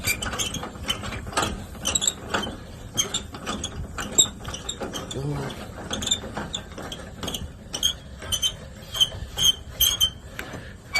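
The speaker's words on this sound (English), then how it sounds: "Crank goes down." A utility trailer's jack is cranked down by hand, making a steady run of close, sharp ratcheting clicks and creaks from the gear mechanism, continuous for about eleven seconds with no talk.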